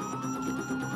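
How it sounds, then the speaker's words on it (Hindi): A car siren sounds in the GTA 5 bank heist mission in North Yankton, a continuous wailing tone under game ambience and effects, moderately loud throughout the short moment. "कार का सायरन बज रहा है।"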